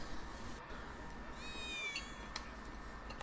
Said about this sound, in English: That was definitely a cat.